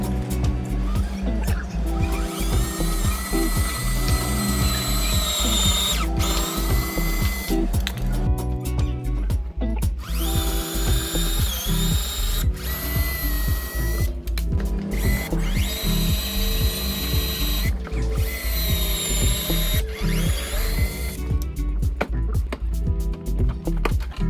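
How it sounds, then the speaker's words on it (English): A power drill drives a self-tapping screw into the bumper of a Honda CR-Z in a repair shop, a loud, steady whirring drone that persists throughout, with faint background noise and no clear talk. "First we'll start a little pilot hole on the bumper with a self-tapping screw."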